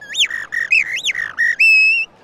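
A person whistles an imitation of a blackbird, bright close warbling phrases with swooping notes and short pauses, ending in a sustained high note, heard alone.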